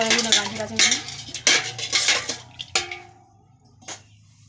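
Steel plates and dishes being washed by hand, with repeated clattering and scraping of metal ware and splashing water in quick bursts that thin out into a few last clinks.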